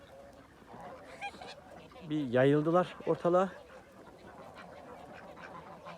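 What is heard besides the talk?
geese and ducks on a farm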